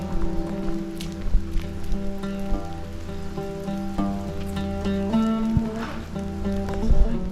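Rain falls steadily outdoors near a mountain in Israel, a continuous patter on surfaces with scattered louder drops and no talking.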